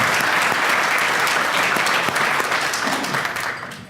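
Audience applause at an awards banquet fills the room, steady and full for several seconds before it fades out near the end.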